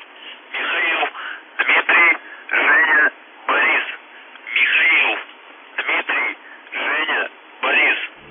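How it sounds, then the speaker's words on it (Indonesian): UVB-76, known as The Buzzer, a shortwave radio signal on 4625, heard as repeated harsh bursts of narrowband radio noise separated by short silences, about nine pulses in a row. "Suara misterius ini adalah suara gelombang pendek di radio dengan frekuensi 4625"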